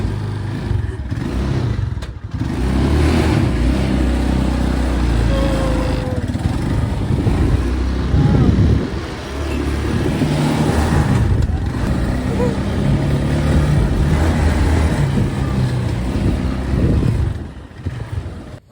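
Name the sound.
Philippine motorcycle tricycle engine running during a ride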